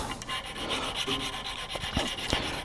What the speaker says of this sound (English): scrapers dull quickly, so we need to touch up the edge